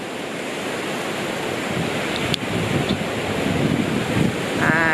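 Sea waves wash onto a Thai resort beach in a steady, broad surf roar with wind buffeting the microphone, the wash swelling slightly toward the end; no speech.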